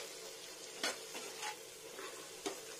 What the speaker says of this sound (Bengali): আলুটাকে একটু ফ্রাই করে নিই পেঁয়াজটার সঙ্গে